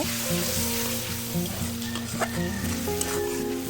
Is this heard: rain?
no